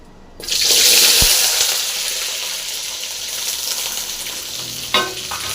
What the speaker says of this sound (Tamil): இப்போ சாம்பார் வெங்காயம் போட்டிருக்கோம். அடுத்து இஞ்சி போட்டுடலாம், அடுத்து பூண்டு போட்டுடலாம். இதெல்லாம் நல்லா ஃப்ரை ஆகணுங்க.